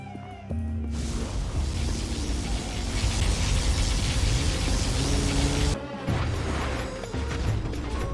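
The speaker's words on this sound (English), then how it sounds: "Our ally is using their particle cannon." A particle cannon fires in Command & Conquer Generals Zero Hour: a sustained roaring blast of noisy energy lasting several seconds, followed by a second burst, loud and dense like a heavy weapon discharge.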